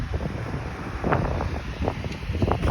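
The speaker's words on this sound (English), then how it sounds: "I don't know if you can hear me or not over this wind, but it's really blowing." Strong gusting wind during a windstorm beside a treehouse, a loud rushing roar with buffeting on the microphone and irregular surges, no talk.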